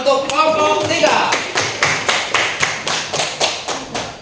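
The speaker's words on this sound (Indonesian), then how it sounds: "Tepuk tangan untuk kelompok 3." A classroom group claps in rhythmic, evenly spaced bursts for a presenting student group, loud and close, with a brief voice at the start.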